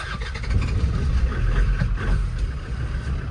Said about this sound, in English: Listen to her power. Might take a few cranks.